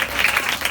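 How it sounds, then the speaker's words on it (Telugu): A church congregation claps hands together in praise during a Telugu Christian prayer meeting, a brief burst of dense, steady applause filling the room with no voices over it. "చప్పట్లు కొట్టి ప్రభునామమున"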